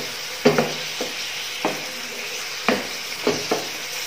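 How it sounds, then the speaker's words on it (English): Meat and black pepper sizzle in a hot pan while a utensil stirs, steady frying hiss broken by a handful of sharp scraping clacks against the pan at irregular intervals, close up. "Just mix everything together."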